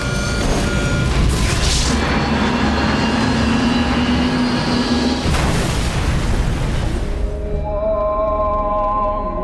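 A dramatized Nigeria Airways DC-8 airframe breaks apart in a crash, heard as loud rumbling roars and booming bursts with a tonal whine, ending in a sustained ringing hum.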